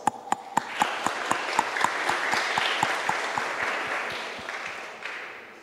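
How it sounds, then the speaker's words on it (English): At a blockchain conference opening ceremony, a modest audience applauds, sharp individual claps standing out in a rhythmic pattern over a softer wash of clapping that gradually thins and fades. "So please give them a round of applause."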